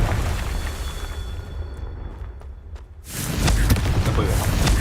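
A Confringo blast spell in a Harry Potter video game: a quieter rumbling stretch with faint clicks, then a loud broad burst of booming energy that holds for the last couple of seconds.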